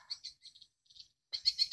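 A played recording of a swiftlet mating call: rapid high-pitched chirping calls in short bursts with brief pauses, then a louder, denser run of chirps near the end.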